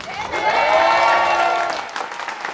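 An audience at a community celebration applauds and cheers loudly in a sustained swell of clapping and crowd voices, tapering off near the end.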